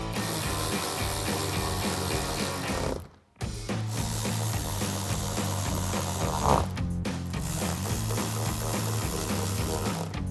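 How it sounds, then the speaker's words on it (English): A ratchet clicks in quick repeated bursts while driving three screws into a Dark Horse style rear diffuser on a 2024-2025 Ford Mustang, with one brief pause in the middle and no talking. "We're just going to get our 3 screws back in on either side."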